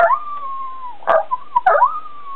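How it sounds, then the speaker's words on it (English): A coyote howls at night in the open: a long, wavering, high-pitched call, broken by short yips and whimpers, then a rising howl that trails on, loud and fairly close with no other sound around it. "it's just a coyote"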